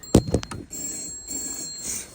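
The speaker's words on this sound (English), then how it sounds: "it's going to ring the phone in the box over there" An old telephone bell rings in a phone box at a museum, in quick clattering bursts and then a sustained metallic jangle. The ringing is close and bright, with no talk.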